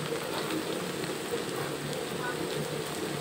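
Shrimp fry in a pan with salt and turmeric, giving a steady, fairly quiet rain-like crackle and sizzle that carries on without a break.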